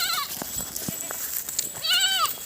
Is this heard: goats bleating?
yes